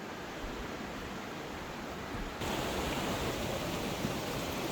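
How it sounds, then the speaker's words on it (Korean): A mountain stream runs through a valley beside a wooden deck path in Bukhansan National Park, giving a steady, broad rush of water that grows slightly louder midway and carries no voices. "데크길 옆 계곡으로 흐르는 물소리는 시작부터 기분을 좋게 해주네요."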